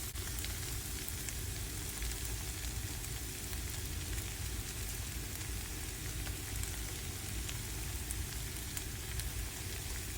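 Crawfish tails and vegetables sizzling in a hot pan as they are stirred, a steady, even frying hiss with faint scraping throughout.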